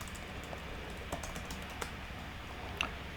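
Someone types R code on a computer keyboard, producing sparse, faint keystroke clicks at an uneven pace over a low steady background hum, with no voices.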